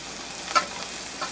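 Prawns fry in a pan with a steady, soft sizzle, and a single faint clink or stir can be heard partway through.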